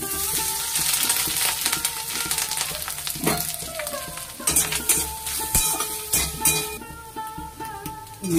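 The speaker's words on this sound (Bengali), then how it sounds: "দিয়ে আমি নারকেলটা একটু ভেজে নিলাম" Grated coconut fries in a pan with nigella seeds and bay leaf for a vegetarian Bengali kochur loti dish, a steady close sizzle broken by frequent metallic stirring scrapes and clatters.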